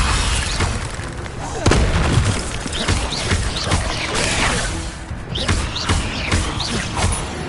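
A fire spell blasting in Hogwarts Legacy, a series of dull booms and thuds layered over a dense, noisy game soundtrack, with a voice speaking between the impacts.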